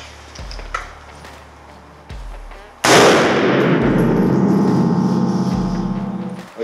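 A single loud gunshot at an outdoor shooting range, fired by a shooter practicing against terrorist-style targets, cracks sharply and rings out with a long decaying echo, preceded by a few faint low thumps.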